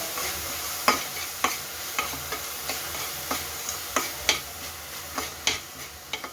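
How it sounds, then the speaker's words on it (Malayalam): Chopped onions are sautéed in a pan for paneer butter masala, a spoon knocking against the pan about once every half second over a soft, steady sizzle, with no voices. "നന്നായിട്ട് ബ്രൗൺ ആവണ വരെ നന്നായിട്ട് സോട്ട് ചെയ്ത്"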